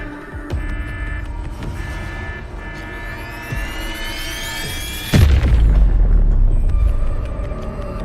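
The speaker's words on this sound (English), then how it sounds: "Meng Zhou's last defenders detonated the entire Yuan fortress" A fortress detonated in the video game Wuthering Waves: a low throbbing hum and rising whine build for several seconds, then a sudden deep booming blast erupts and rumbles on heavily to the end.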